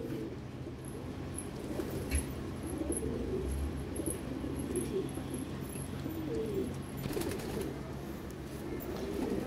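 Madrasi black pigeons coo softly and repeatedly, low rolling calls repeating through quiet background ambience.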